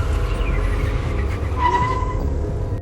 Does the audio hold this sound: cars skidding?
yes